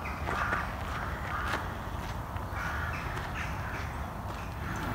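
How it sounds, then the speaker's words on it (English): Several crows caw from a distance over an outdoor background in Dorset, with a few scattered footstep-like sounds nearby. "lots of crows that you probably can hear"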